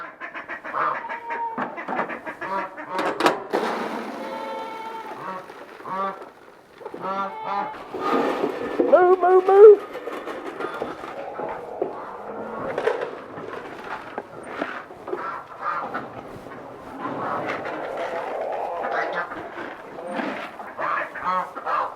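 Geese honk loudly and repeatedly close by, their calls overlapping in a noisy flock, while a person speaks briefly among them.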